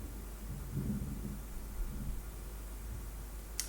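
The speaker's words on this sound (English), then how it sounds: "It's thundering." Thunder rumbles low and distant over a quiet background, with a soft rolling swell near the start and a faint lingering growl.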